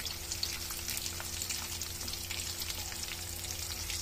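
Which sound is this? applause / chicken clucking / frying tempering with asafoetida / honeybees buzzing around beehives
frying tempering with asafoetida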